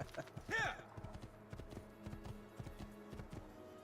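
Horse hooves in the video game Assassin's Creed 2 clatter in quick, uneven clip-clop taps, faint and close, after a brief louder whinny-like burst near the start, with a steady low game hum underneath.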